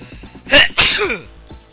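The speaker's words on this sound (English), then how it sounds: "Oh, man, I gotta sneeze." A single loud human sneeze with a sharp intake and explosive burst, followed by a short trailing vocal exhale, heard close and alone.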